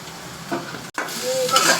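A beetroot chop mixture with spices is stirred and fried in a pan, producing a short burst of sizzling with scraping spatula strokes, briefly cut by a gap before the frying resumes.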